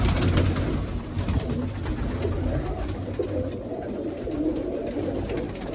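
Large pet pigeons coo repeatedly in their coop, soft rolling calls close by over a steady background hum, with no talking.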